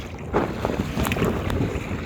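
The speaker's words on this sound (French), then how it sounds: "On va prendre les vagues, hop." A kayak paddles through small waves on the St. Lawrence River, with steady wind rush and water sloshing against the hull, paddle splashes coming every so often, close and fairly loud.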